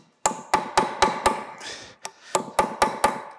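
A cold chisel struck repeatedly with a hammer against a babbitt bearing on an old bandsaw being restored: about nine sharp metallic blows, close and loud, in two groups with a short scraping pause between.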